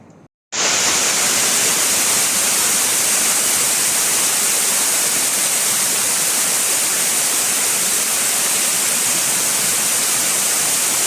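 Dense, steady rushing of water flowing down inside Fung Tak Park's cave, Wong Tai Sin, Hong Kong, fills the space after a brief quiet start, loud and continuous like a nearby cascade.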